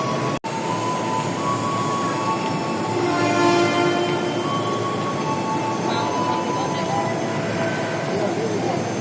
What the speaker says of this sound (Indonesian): lalu kita naik kereta ke arah Manggarai